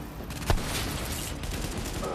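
A deployed turret opens fire in Tom Clancy's The Division, a sharp burst near the middle standing out from steady, crackling gunfire and combat noise.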